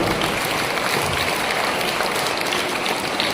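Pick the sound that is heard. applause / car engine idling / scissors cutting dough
applause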